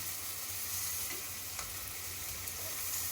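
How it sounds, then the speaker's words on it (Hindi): Spice masala fries in a pan for pea rice, a soft steady sizzle with a few faint stirring scrapes, low and continuous with no voices. "ये मसाला भुन रहा है"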